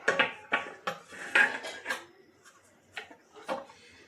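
Dishes and utensils clatter as tomato paste is transferred onto a plate in a home kitchen, a series of short clinks and scrapes, sharp and close, with pauses between them.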